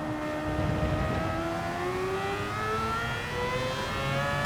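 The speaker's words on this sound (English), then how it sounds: "Although this is a race modified rotary engine." A race-modified rotary engine whines smoothly and steadily in Gran Turismo 7 on PS5 Pro, its pitch climbing gradually as the touring car accelerates, loud and continuous with no other sounds.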